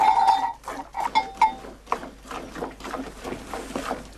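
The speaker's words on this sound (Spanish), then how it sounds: "En la cuadra, Tomás Marichal ordeña las hembras paridas y recoge la leche en el tofio" Goats in a stable during milking bleat in several short, nasal calls near the start, followed by shuffling, rustling and faint clinks of handling in the pen.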